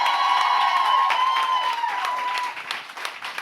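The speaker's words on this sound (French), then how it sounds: "On les applaudit, s'il vous plaît." Studio audience applauding at a Quebec talk show taping, a steady wash of clapping with some cheering that holds loud for about two seconds, then thins out, with music tones running underneath.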